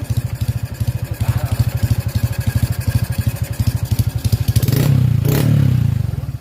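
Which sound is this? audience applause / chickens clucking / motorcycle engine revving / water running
motorcycle engine revving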